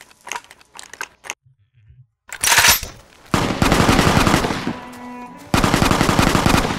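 Gunfire from the video game Fallout: New Vegas: a few scattered shots, then loud, dense bursts of rapid automatic fire that rattle on and off, close and harsh, with no voices.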